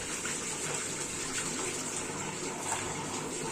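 Steady gushing tap water runs continuously, close and fairly even, while freshly bought crabs are being washed clean.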